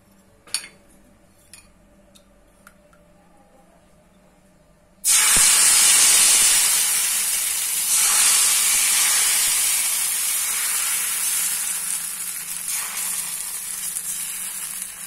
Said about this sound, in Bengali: আমি এভাবেই সবগুলো ভেজে নিব